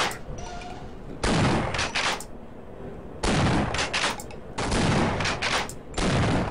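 Weapon fire in the video game Half-Life: loud, dense bursts of rapid gunfire in repeated long volleys with brief gaps between them, close and filling the sound.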